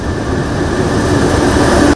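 A train runs steadily in a continuous loud rumbling roar with a faint high whine, ending abruptly, on a resumed rail service near the Rigasa community.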